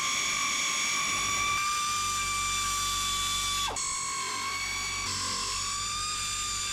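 A BMW X5 prop shaft is worked loose with a ratchet wrench under the car, giving steady close mechanical whirring with tonal whine and a few clicks and shifts in pitch, no talking.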